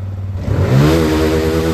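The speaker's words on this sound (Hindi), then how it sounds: "अब देखिए एक सेल्फ दबाए, बाइक स्टार्ट" TVS Apache BS6 motorcycle, just fitted with a brand-new throttle body, fires up on the electric self-starter: a brief low start, then a steady, loud engine idle close by with no talk.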